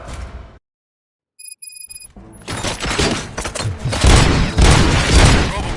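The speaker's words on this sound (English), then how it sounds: "Gunshots? What's going on?" A rapid fusillade of gunfire and booming impacts in a RoboCop 3 film scene, starting after a beeping electronic signal and growing into loud, dense, continuous shooting and explosions.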